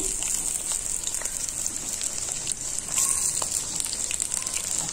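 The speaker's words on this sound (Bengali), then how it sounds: "এবার মাংস রান্না করার জন্য আলুটা ভেজে নিচ্ছি।" Potatoes fry in a pan before a meat curry is cooked, giving a steady, dense sizzle that holds at an even level throughout with faint crackles, and no voices.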